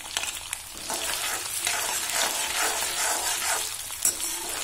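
Thin slices of raw potato fry and get stirred in hot oil for a pumpkin leaf saag. A close, steady sizzle runs throughout, broken by a few scraping stirs.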